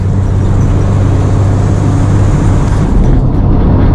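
An old classic Datsun leaf spring truck driving fast at around 70 mph, giving a steady, loud engine drone and road rumble that stays constant throughout with no talking.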